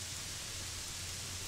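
Steady rain hissing down in the fantasy game Gothic 3, a continuous even wash of broadband patter with a low rumble beneath, no talking over it.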